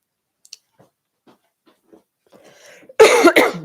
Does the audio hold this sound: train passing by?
no